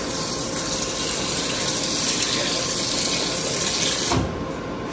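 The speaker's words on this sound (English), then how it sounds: "Make sure you rinse your ice off." Ice is rinsed under running water, giving a steady, loud, close rushing hiss with faint rattling mixed in, which stops abruptly near the end.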